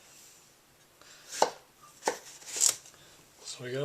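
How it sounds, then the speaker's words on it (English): A knife chops cucumber into slices on a board, a few distinct sharp taps spaced apart, with a brief voice speaking softly near the end. "I just cut it into slices like this, kind of like with the carrot, same thing, and then I cut them into a lot smaller pieces"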